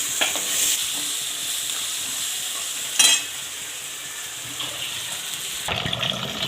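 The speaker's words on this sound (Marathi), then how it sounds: "आता कारले छान पाण्याने आपण दोन तीन पाण्याने छान धुवून घेऊया" Bitter gourd pieces being rinsed and swished by hand in water in a kitchen, a steady splashing and running-water wash with a louder slosh midway, and no talking.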